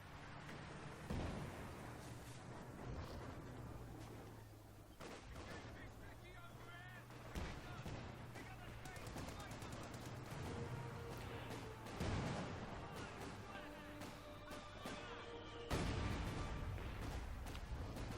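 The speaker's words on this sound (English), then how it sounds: "That 120mm mortar almost hit his own men." Muffled thuds and explosions from 120mm mortar shelling in Company of Heroes 2 roll through a quiet battle soundscape, with several distant impacts and a commentator talking over them.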